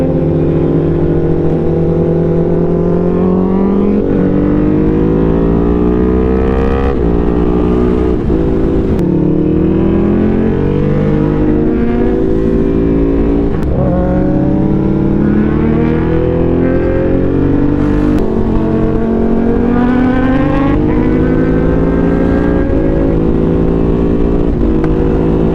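Suzuki Hayabusa motorcycle on a ride, warming its tires, with a loud continuous engine drone whose pitch climbs and falls through repeated revs and gear changes, close and without talk.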